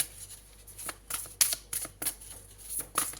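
A deck of tarot cards is handled and shuffled up close, giving a series of crisp riffling bursts and quick flicks separated by short pauses.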